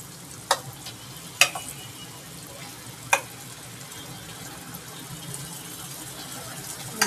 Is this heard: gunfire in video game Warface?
no